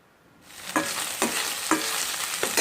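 Onion and tomato pieces fry in a pan with a steady hiss that starts after a short quiet moment, broken by regular spatula scrapes and stirs about every half second, close and moderately loud, with no voices.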